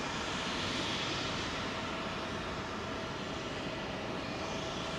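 A Delta Airbus A330 airliner at London Heathrow runway 27L, a continuous distant jet engine rumble and hiss holding steady without voices.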